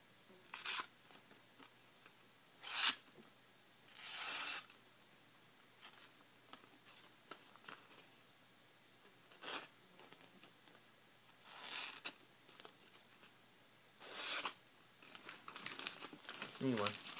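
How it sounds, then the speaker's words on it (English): A Blade-Tech Professional Hunter knife (2005 model) slices through a wrinkled magazine in several short bursts of crisp paper crinkling and tearing, spaced apart with quiet gaps, fairly close and moderately loud. "Hard to cut a wrinkled magazine."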